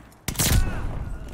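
A single sharp, heavy PTRS-41 anti-tank rifle shot fires in CoD Vanguard, a sudden loud crack followed by a booming low rumble and a fading echoing tail.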